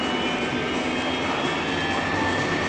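Airplane engine in a flight simulator game, at full power for takeoff at the end of the runway, a steady loud broadband roar holding even and unbroken with no voices over it.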